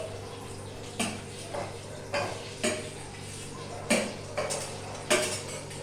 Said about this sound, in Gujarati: પહેલા મેં કાંદા નાખ્યા, હવે હું કેપ્સિકમ નાખું છું અને કોબી બી નાખી દઉં છું